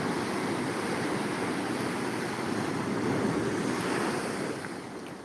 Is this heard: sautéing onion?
no